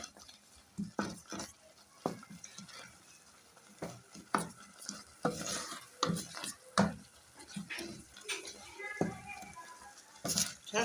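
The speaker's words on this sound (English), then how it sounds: "you have to continue stirring until you can see" A spoon stirs thickening passion fruit jam in a pot on the stove, with irregular soft scrapes and taps against the pot over a faint simmer, close and fairly quiet.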